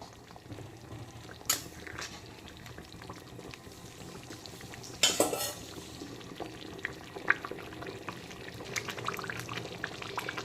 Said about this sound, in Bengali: দেখতেই পাচ্ছ টকবক করে ফুটছে